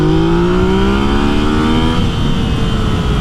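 A Yamaha XSR900 motorcycle at full throttle in first gear, a loud close engine roar climbing steadily in pitch over a few seconds with rough exhaust rumble underneath.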